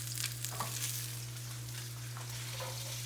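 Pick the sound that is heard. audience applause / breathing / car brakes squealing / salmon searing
salmon searing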